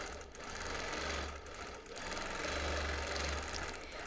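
A sewing machine quilts a stained vintage quilt with a fast, even mechanical whir and needle patter, heard up close. The running hum pulses slightly as the speed shifts, with no talking over it.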